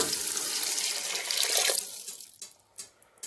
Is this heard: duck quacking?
no